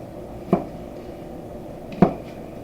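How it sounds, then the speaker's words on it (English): A knife chops portobello mushrooms on a cutting board with two separate sharp thuds about a second and a half apart, close and distinct against a quiet kitchen background. "Just pull the stem out of these portobellos and just chop up your mushroom."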